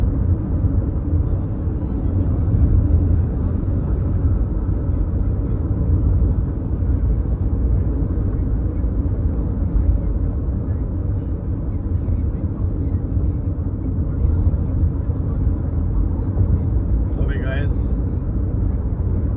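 Car cruising at 107 km/h on a highway from Delhi toward Rohtak, heard from inside the cabin as a steady, loud low rumble of road and engine noise that continues without a break.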